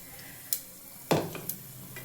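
Panch phoron whole spices dropped into hot oil for dalia khichuri, a brief close sizzle and crackle with stirring clinks, short bursts against quiet stovetop background, no voices.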